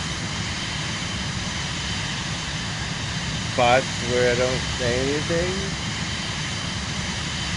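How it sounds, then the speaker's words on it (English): A simulated airliner's engines in Microsoft Flight Simulator 2024 produce a steady, broad droning hum throughout, with someone talking over it. "Sometimes I get zoned out in the game with the noise of the airplane."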